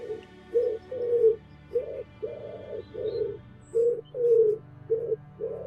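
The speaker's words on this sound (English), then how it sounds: "or even feeding the pigeons" Pigeons coo in a close, soft series of about ten low rounded calls in an uneven rhythm while being fed, alone and clear against a quiet background.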